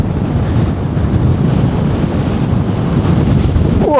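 Strong wind on the Karwendel summit near Mittenwald buffets the microphone with a constant low roar and rumble, loud and unbroken throughout.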